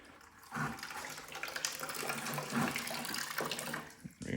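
Water poured into a dirt bike radiator to flush out old coolant, a continuous close splashing pour that runs steadily for a few seconds before briefly stopping.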